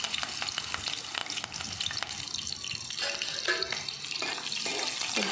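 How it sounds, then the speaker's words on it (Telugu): Green chilli pieces frying in hot oil for egg mulakkaya pulusu, a close, steady sizzle with stirring scrapes and clatter, no talk. "ఈ ఆయిల్ హీట్ అయిన తర్వాత ఇందులో పచ్చిమిరపకాయ ముక్కలను కూడా వేసుకోవాలి"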